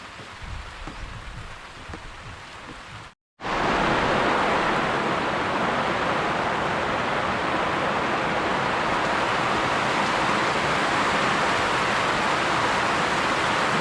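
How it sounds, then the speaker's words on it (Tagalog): Heavy rain starts suddenly over a bamboo hut under construction, cutting in after a brief silence and holding as a loud, steady, dense roar. "Bigla pong buhos ang ulan ay,"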